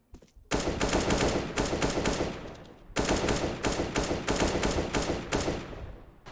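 Dense bursts of rapid automatic gunfire from a shooting video game, loud and close, in two long sustained volleys separated by a brief pause.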